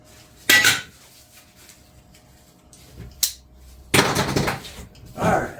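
A thin wrench clanks against metal while tightening the wheels of a new propane heater in a shop, a few separate sharp clinks and rattles spaced out among quiet gaps.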